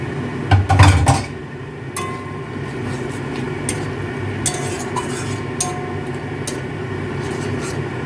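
A spoon stirs and scrapes spice paste with a little water in a pan over a steady low sizzle, with a couple of louder clinks near the start.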